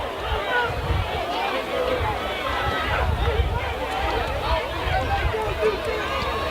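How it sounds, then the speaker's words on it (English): Crowd noise at a 12U youth football championship game, a steady murmur of spectators below with groans and scattered shouts throughout, under broadband outdoor noise. "You can hear the frustration in the crowd below us as well."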